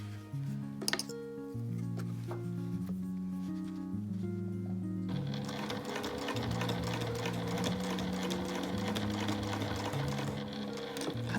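An industrial sewing machine stitches through the thick opening of a bag in a steady rapid chatter that grows busier and brighter partway through as the speed picks up, with soft background music underneath.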